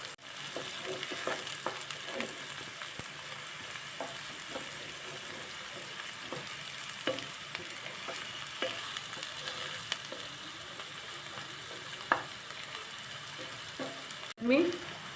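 Onion frying with garlic-ginger paste for a green peas chutney, a continuous sizzle broken by frequent scraping stirs of a spoon, with a louder knock and clatter near the end.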